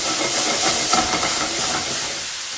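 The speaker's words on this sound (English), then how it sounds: "add some cherry tomatoes straight in" Cherry tomatoes dropped into a hot oiled pan for a seared tuna spaghetti sauce give a steady, loud sizzling hiss that holds throughout and eases slightly at the end.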